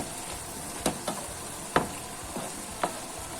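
A few sharp scraping clicks of a utensil stirring in a pan, spaced irregularly over a steady low sizzle of frying food.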